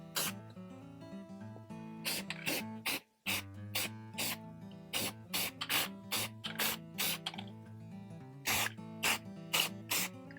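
Black spray paint hisses around a template in a string of short, sharp bursts, one after another with brief gaps, over a steady background of music.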